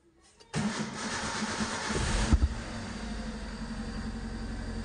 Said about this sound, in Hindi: स्टार्ट करके देखेंगे गाड़ी को।